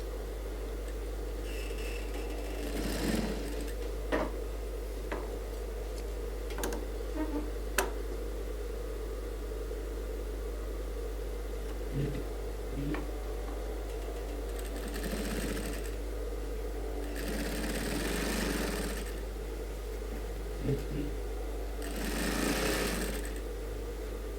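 A sewing machine runs stitches on a suit, with a few short whirring bursts and a handful of sharp clicks over a steady low hum and background noise, fairly quiet throughout.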